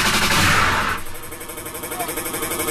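A gunshot effect fired on a 1994 jungle radio set, a loud burst with rapid crackling reverb over the first second, then decaying into rhythmic music.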